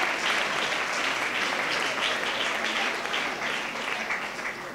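An audience at a cultural talk applauds, a full, continuous wash of many hands clapping that stays strong for several seconds before easing slightly toward the end.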